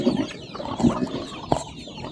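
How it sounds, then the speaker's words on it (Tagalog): Chickens clucking at a farm with a small hut and coconut trees in a rural Philippine setting, several short clucks at moderate distance over outdoor background noise, no talk. "Daming manok."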